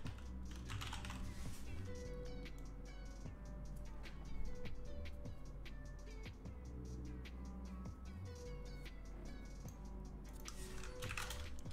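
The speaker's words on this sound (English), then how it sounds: "my fingers are kind of cold, so I'm having like trouble typing." Fast, continuous typing on a computer keyboard fills the stretch with dense clicks close to the microphone, over a low background hum, with no one talking.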